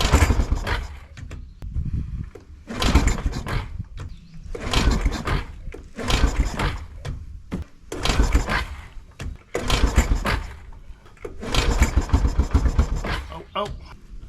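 A 1996 Kawasaki Bayou 300 4x4 ATV, sitting unused for over a year and primed with ether, cranks over in about six repeated starter bursts of a second or two each, separated by short pauses, loud and close.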